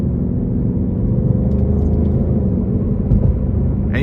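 Inside a 2023 Ford Mustang Mach 1 on the road, a steady low engine rumble and road drone hold at moderate, even loudness, with only a faint tick or two over the top.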